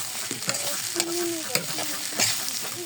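Potato pieces with a little turmeric fry in a pan, a close, steady sizzle broken by several sharp scraping clacks as a spatula stirs them.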